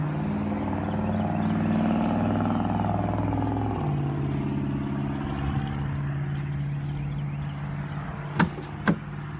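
A used car's engine runs with a steady low idle hum whose pitch drops slightly partway through. Two sharp clicks come near the end, and no one speaks.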